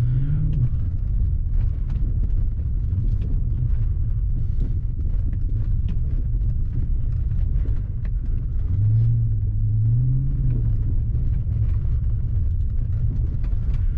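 A BMW 750i with a V8 engine drives over a rough, dusty road, its low steady rumble filling the cabin with faint knocks and a brief rising engine note partway through.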